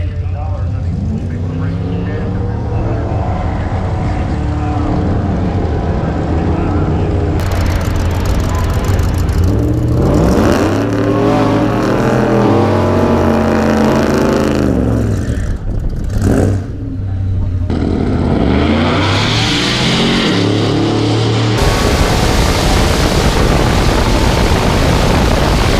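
A supercharged VMP truck runs at a ModNationals 2018 drag race, its loud engine revving and rising in pitch through repeated pulls, with abrupt shifts in the sound and voices talking over it.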